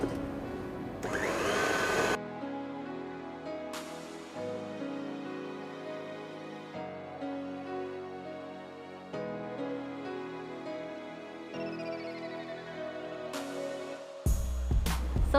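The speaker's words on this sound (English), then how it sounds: "be careful when you beat it, don't overbeat it." An electric mixer beats cream for a strawberry shortcake, a steady motor whir running the whole time with small shifts in pitch and a brief louder burst near the end.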